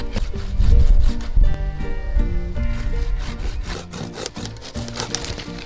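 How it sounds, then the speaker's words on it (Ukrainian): A hand saw rasps through tree branches, cutting off dead wood, in steady back-and-forth strokes, close by, with the rhythm quickening toward the end. "Відпилюємо їх пилкою, щоб ті не заважали рости і розвиватися живим гілкам."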